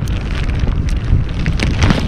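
Rain falls steadily outdoors during a fishing trip, a dense, continuous patter with gusty wind buffeting the microphone and no voices.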